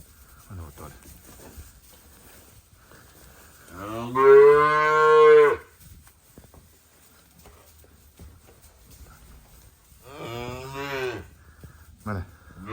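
Limousin cattle on a farm give two loud, drawn-out moos, one long call and a shorter one after a quiet pause, against faint background noise.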